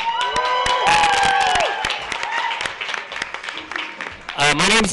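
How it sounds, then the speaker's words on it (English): An audience at a progressive political forum in Albuquerque claps and cheers loudly, with whoops and shouting voices mixed into a dense burst of crowd noise rather than distinct separate claps. "If you can hear me, clap 3 times loud"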